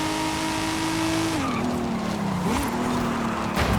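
In Forza Horizon 5, a 1993 Nissan Skyline R33 inline-six revs in a sustained engine drone whose pitch holds, then drops with a gear change and wavers, heard from outside the car with a brief tire squeal.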